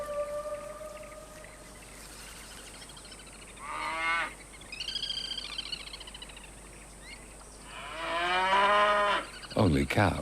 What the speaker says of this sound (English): Only cows, but this is a sensitive time.